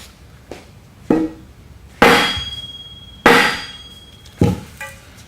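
A 4x4 timber beam striking the upper spindle of a CS-1 sifter, five loud, close, ringing wooden-metal blows spaced about a second apart, each with a short metallic ring and decay, no talking.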